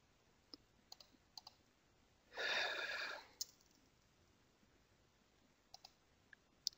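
A computer mouse gives scattered, quiet clicks, single and in quick pairs, with a brief breathy sniff midway in an otherwise silent room.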